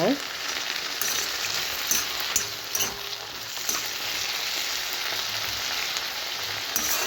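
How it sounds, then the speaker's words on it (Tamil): Spinach sizzles steadily in hot oil in a pan while being sautéed for a greens chutney. The frying hiss is continuous and moderately loud, with occasional faint clicks. "இப்போ இது நல்லா அப்படியே எண்ணெயிலே வதங்கிக்கட்டும்"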